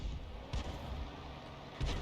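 Artillery fire in World of Tanks, heard as two muffled booming shots about a second apart, quiet and distant-sounding.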